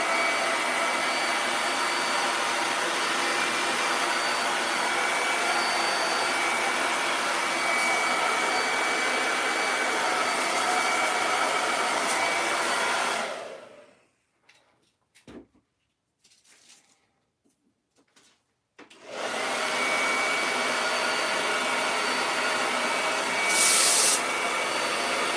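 A hair dryer blows steadily and loud at close range, drying chalk paste on a silkscreen transfer for a home wreath, cutting off for a few seconds of near silence before starting up again.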